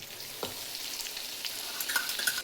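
Ginger, green chilies and garlic frying with cumin seeds in hot oil for paneer bhurji, a steady close sizzle with a few light stirring scrapes, no voices.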